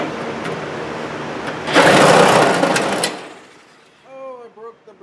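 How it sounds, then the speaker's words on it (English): A die grinder cuts through metal on a Project Hot Horse build, its harsh high-pitched whine swelling loud for about a second and a half before stopping, with a voice speaking briefly afterward. "I'm just going to cut the rest of this with the die grinder."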